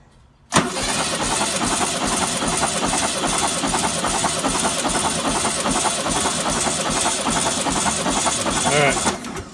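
An old VW Sunbug engine cranks on a spark test after sitting for 30 years, kicking in abruptly and churning loudly and steadily for about nine seconds before easing off.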